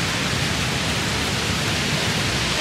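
Light rain falling outdoors in a town square, a steady even hiss of drops filling the whole stretch with no voices or other sounds breaking through.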